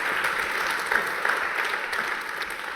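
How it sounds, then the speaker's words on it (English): A conference audience gives a big round of applause for a professor, continuous dense clapping filling the hall at even volume. "one more big round of applause for Professor Lampros Stergioulas"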